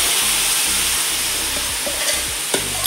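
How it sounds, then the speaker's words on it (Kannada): Coriander and mint paste stirred into a sizzling biryani gravy in a hot pan, a steady close frying hiss with scraping stir strokes throughout and no talk. "ಈಗ ನೆಕ್ಸ್ಟ್ ಕೊತ್ತಂಬರಿ ಮತ್ತು ಪುದೀನದ್ದು ಪೇಸ್ಟ್ ಹಾಕ್ತಾ ಇದ್ದಾರೆ"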